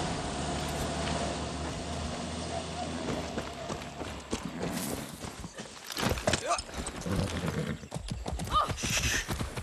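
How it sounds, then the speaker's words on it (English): Horse hooves clip-clop steadily in Far Cry 6 gameplay, with a neigh or whinny breaking through, all set against a busy game soundtrack with brief voices. "Be nice, horse."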